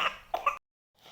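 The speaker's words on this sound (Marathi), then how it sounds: "मध्ये मध्ये आमच्या परराण्याच्या थोडा थोडा खोकल्याचा आवाज आला असेल" A person nearby gives two quick, dry coughs in close succession, followed by a short silence and then a faint breath.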